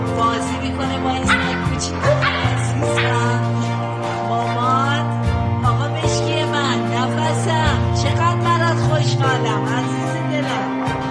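A small dog barks and yips in quick, loud bursts close by, with whimpers and high yelps between them, while a person talks over it throughout.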